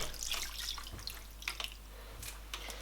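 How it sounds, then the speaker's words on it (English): Water poured from a tap into a pot for a crab seafood boil, a faint, soft trickle with light splashes and drips, close by with no talking. "I will add a bit more water because you need the water to cover the crab."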